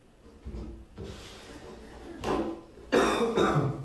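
A person coughs, with a soft throat-clearing cough near the middle and a louder, harsher cough toward the end, heard close and loud in a quiet room alongside light handling noises.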